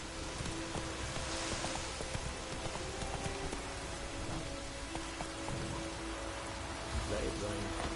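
Steady rain pours down in The Witcher 3 while a horse's hooves clip-clop beneath it, with game music tones running through a dense, continuous wash of noise.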